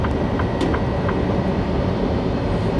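A long freight train of tank cars and boxcars rolls past close by, a steady loud rumble with faint clicks and squeals from the wheels and no voices.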